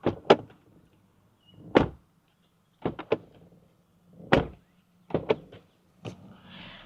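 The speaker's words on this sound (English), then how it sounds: "let's see how the door sounds like when you shut it." A Mahindra Thar Roxx five-door SUV's door is shut several times in a row, each close producing a solid, muted thump without a metallic click, heard up close with short quiet gaps between.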